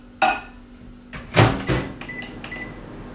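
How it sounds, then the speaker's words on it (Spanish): A microwave oven at home is used to warm cream, giving a door clunk followed by a run of clicks and thumps from the appliance, with a faint steady hum behind. "Al microondas nomás."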